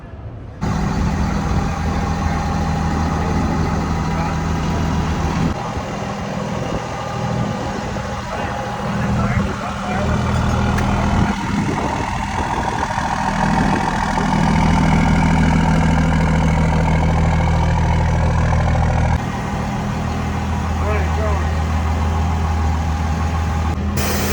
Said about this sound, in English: Well, it's a Cummins engine.